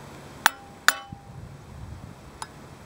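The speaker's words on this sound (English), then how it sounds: "we're actually going to hammer this in lightly" A new wheel bearing is tapped lightly into place with a hammer and a press piece: two sharp metallic clinks about half a second apart, then a fainter third tap, with quiet gaps between.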